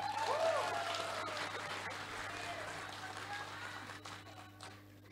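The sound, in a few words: audience applause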